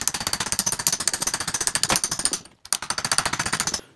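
Rapid ratcheting or impact-style mechanical chatter from a spanner with a small extension working a bolt loose on the independent rear suspension of a 1967 Jaguar E-Type; a steady fast burst, brief pause, then it resumes, close and loud.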